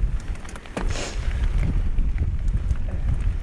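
Strong, steady wind roars across the microphone on a stormy, exposed by-way on Salisbury Plain, gusting loudly and continuously with low buffeting throughout, no talking.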